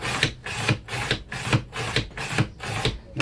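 A chisel blade rubbed back and forth on a Sharp Edge fine-grit sharpener, a close, even rasping scrape repeating about seven times in a steady rhythm, with no talking.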